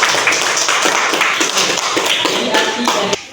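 Applause for a young Quran reciter named Yusuf after his recitation, a steady wash of many hands clapping, fairly loud and close, lasting about three seconds before cutting off.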